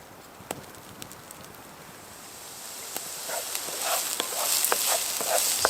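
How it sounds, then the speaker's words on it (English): Ginger, garlic and onion sauté in a pan on a winter hammock camping trip, a soft sizzle that builds steadily louder with scattered pops and stirring clicks, close by and without talk. "Sauteing the ginger, garlic, onion"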